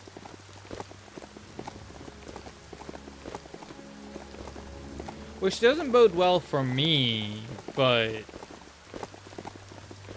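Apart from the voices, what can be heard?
rain in the video game Biomutant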